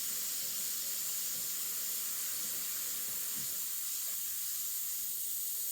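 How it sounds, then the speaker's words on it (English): Airbrush spraying Createx Illustration Colors onto Blair synthetic paper, a faint steady airy hiss running throughout, close and unbroken with no talking. "And just pull the airbrush back a little bit."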